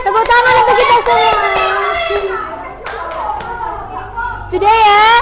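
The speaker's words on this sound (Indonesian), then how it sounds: "Tepuk tangan untuk kita semua." A class of schoolchildren claps together in a classroom, a short burst of applause under loud, high children's voices and a voice that carry over most of the clip.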